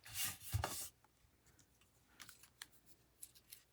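Washi tape with a floral pattern torn by hand in a sharp, loud burst of ripping, followed by a few fainter crinkles and taps of the tape being handled nearby.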